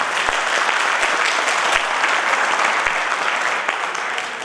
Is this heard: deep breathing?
no